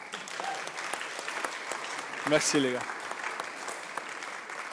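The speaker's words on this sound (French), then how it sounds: "Est-ce qu'on peut les applaudir?" Church congregation applauding during a Sunday service, moderately loud scattered clapping with a short spoken thanks from a voice partway through.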